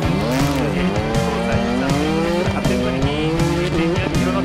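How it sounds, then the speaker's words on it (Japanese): Formula D Japan drift competition car on Dunlop tyres at Ebisu West, tyres squealing loudly and continuously with wavering pitch over a roaring engine, rising and falling as the car slides through the zones. "ダンロップタイヤ、さあ飛び込んでいく1本目"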